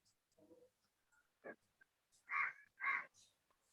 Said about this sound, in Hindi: ये कौवा किसके पीछे बोल रहा है?